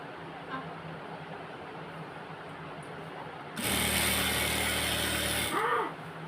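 A sewing machine stitching a petticoat: after a quiet stretch, a steady, fast mechanical whirr runs loud for about two seconds, then stops, with faint background noise and a little talk.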